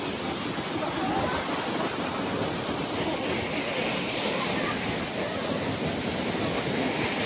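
Cold mountain stream water rushing steadily near the remote Himalayan village of Chitkul, a dense, constant roar that fills the whole stretch without pause.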